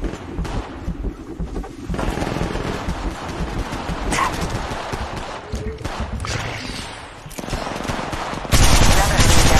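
Automatic weapon fire in Apex Legends Mobile, sustained rattling bursts with brief pauses, loud and close, ending in a sudden louder burst, amid game noise and brief voice lines.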